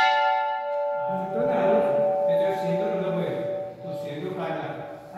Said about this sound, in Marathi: इथे खूप छान घंटी लावण्यात आलेल्या.